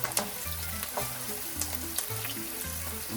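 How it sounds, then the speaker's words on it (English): Onions for pasta e piselli sizzle steadily in a pan, a soft continuous frying crackle with occasional faint pops, fairly quiet and close, with a low tonal hum underneath and no talking. "So the onions are cooking, and they're starting to get a little translucent."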